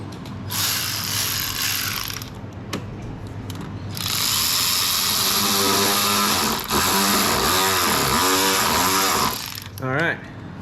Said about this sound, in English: now that's back on, we can tighten up our clamp over there.